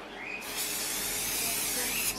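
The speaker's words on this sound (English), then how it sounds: "So just give them a little light spray." A single steady hiss of cooking oil spray lasting about two seconds, close and even, with faint background noise.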